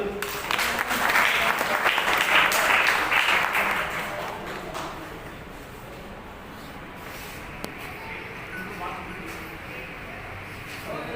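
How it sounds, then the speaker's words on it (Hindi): Applause at a community award ceremony in New Delhi, a loud burst of crowd clapping in the first few seconds that fades into lighter scattered claps and room murmur. "एक बार जोरदार तालियों से"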